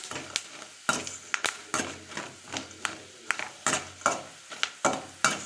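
Okra (ladies' finger) fries in a pan. Brisk, sharp spatula scrapes and pan clicks repeat every half-second or so over a light sizzle, close and moderately loud, without speech.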